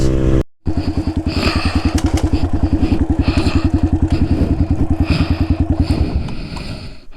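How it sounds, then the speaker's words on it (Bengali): Off-road motorcycle engine and exhaust on a hill trail, a loud, steady, rapid thumping idle close to the microphone that carries on for several seconds after a brief gap, then fades, with no talk. "আর আমার এক্সস্টের সাউন্ডটা আপনারা জানেনই, ওয়াও সাউন্ডটাই সেই"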